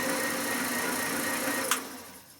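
A Shopsmith wood lathe runs at its single speed with a piece of wood mounted, giving a steady, close whirring motor hum with one sharp click near the end before it softens slightly.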